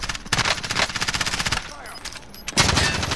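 Automatic gunfire on Rebirth Island in Call of Duty Warzone rattles in rapid, rhythmic bursts, then eases before another loud volley returns near the end. Faint voices may sit underneath.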